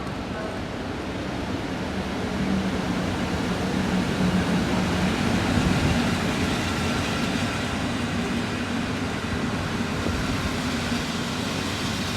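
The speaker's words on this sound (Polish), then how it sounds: "I mamy wjazd pociągu Intercity Matejko do Szczecina i Jeleni Góry." An Intercity Matejko passenger train pulls into the station at Opole with a steady, broad rolling rumble. The low drone holds unbroken for the whole stretch, with no speech.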